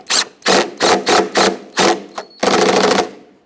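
A power tool drives a coarse-threaded screw into a plastic intake manifold on a 2008-2010 Ford F250 Super Duty 5.4L V8, in short repeated buzzing bursts that end in one longer run, loud and close.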